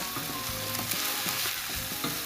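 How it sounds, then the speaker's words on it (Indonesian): Coarsely pounded garlic and shallots sauté in oil in a wok for beef fried rice, a dense continuous sizzle with spoon scrapes and clanks over it, loud and close with no voices. "Kemudian Kak Syah tumiskan bahan-bahan yang telah Kak Syah tumbuk kasar."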